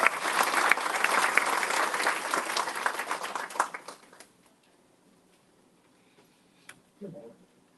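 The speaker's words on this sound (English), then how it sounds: "Let's give her a round of applause." Audience applause fills a school board meeting room, dense and steady for about four seconds before thinning out and stopping, followed by quiet with a brief murmur near the end.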